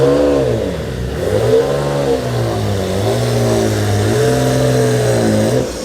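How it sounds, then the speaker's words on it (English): A fully race-prepared, all-wheel-drive Nissan R32 GTR at Autos de France 2023 revving loudly up close, its engine rising and falling in several throttle blips over a steady idle. "that is an absolute legend of a car, an R32 GTR, fully race prepared"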